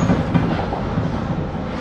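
A London Underground Jubilee line 1996 stock train, unit 96024, arrives at Stratford station with a steady, loud low rumble and rolling wheel noise, continuous throughout.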